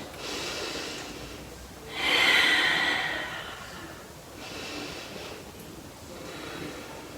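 Slow, deep breaths during a yoga half moon pose against a wall: one long airy inhale or exhale, then a stronger, louder one, followed by two softer breaths, close and quiet.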